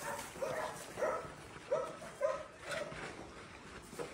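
Soft puppy whimpers and small yips repeat every half second or so, fairly faint, with light background noise and no talking.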